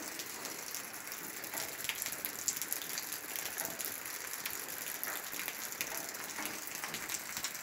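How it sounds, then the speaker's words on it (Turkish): Light rain falls steadily in a rural village, a soft, even patter with faint scattered drops, quiet and continuous with no voices. "Çarşamba, yağmur başladı."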